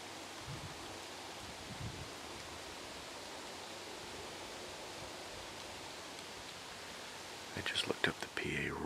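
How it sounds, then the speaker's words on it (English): Wind sweeping through big woods during a Pennsylvania archery hunt, a steady broad rushing hiss of air through trees that holds for several seconds, with a brief rustle and a few soft bumps near the end. "Here comes the wind"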